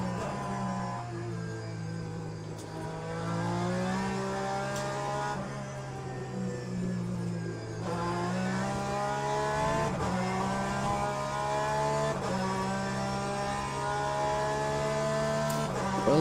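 A race car engine in Le Mans Ultimate drones continuously, its pitch rising through the gears and dipping at shifts, steady and fairly prominent with no talk over it.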